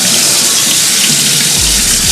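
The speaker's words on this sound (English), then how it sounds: "So just rinse them until the water underneath is running pretty clear." Kitchen tap running loud and steady over canned beans being rinsed, a dense hiss of flowing water that shifts slightly in tone partway through as the stream hits the beans.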